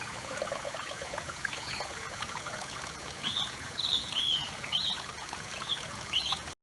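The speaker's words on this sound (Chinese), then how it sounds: "例如，生成溪流和鸟鸣的声音。" Stream and birdsong generated by Meta AudioBox AI: a continuous trickling, pattering flow of water, with several short, bright bird chirps rising above it in the second half, without talking.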